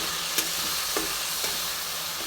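Chicken and eggplant masala frying with sour yogurt mixed in, a constant close sizzle broken by three evenly spaced spoon scrapes against the pan, with no talking.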